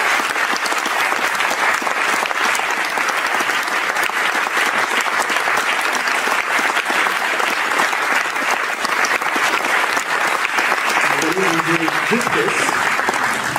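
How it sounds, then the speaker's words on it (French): Sustained applause from a concert audience at a Paris café live show, dense and steady clapping throughout, with a faint tonal sound rising near the end. "je vous demande d'applaudir Florent et aussi"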